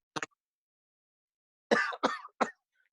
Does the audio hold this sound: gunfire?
no